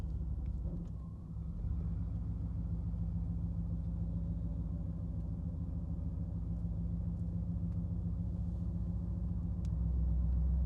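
A 1989 Pontiac Trans Am GTA engine cruising slowly, a low steady rumble from inside the car that stays even with a slight swell near the end.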